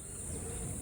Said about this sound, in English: Lots of frogs and cicadas over there